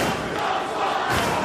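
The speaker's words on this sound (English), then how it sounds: "Young Bucks! Young Bucks! That's what the crowd is chanting here." A Ring of Honor wrestling crowd chants for the Young Bucks during a tag team championship match, a dense, loud roar of many voices filling the arena throughout.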